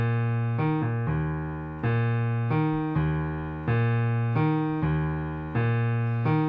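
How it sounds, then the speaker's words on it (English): A piano-like bass line plays in a Latin 3-3-2 syncopated pattern, with sustained harmonic notes re-struck in uneven groupings, loud and close with no talking. "Perhaps you've heard a bass line that sounds something like this."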